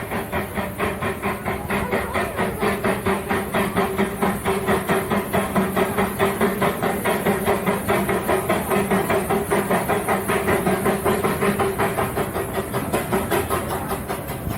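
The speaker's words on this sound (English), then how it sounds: "There comes the train." An amusement park train rumbles steadily past with a rapid rhythmic clatter and hiss, loud and continuous throughout.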